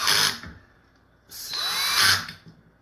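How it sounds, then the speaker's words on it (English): A power screwdriver set to low torque tightens nuts on Vruzend caps while an e-bike battery is being repaired. It gives two close, loud whirring bursts with a short quiet gap between them. "Take a power screwdriver."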